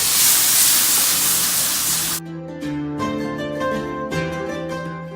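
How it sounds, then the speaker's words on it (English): A hot Lodge cast iron pan held under running water gives a loud, harsh steaming hiss for about two seconds, then cuts off abruptly as tonal music takes over. "when you put this under there, it's going to steam up a lot."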